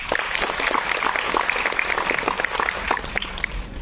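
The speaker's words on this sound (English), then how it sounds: "Just give yourself a round of applause." Students applaud at a university freshmen induction ceremony in a hall, a dense burst of many hands clapping, with individual sharp claps standing out from the steady crowd noise throughout.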